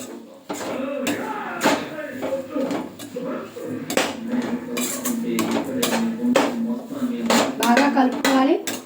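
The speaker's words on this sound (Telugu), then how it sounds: "బాగా కలుపుకోవాలి." Bitter gourd fry with chana dal being stirred in a pan, a spatula clanking and scraping repeatedly against the metal in an uneven rhythm, close and clear, with faint voices in the background.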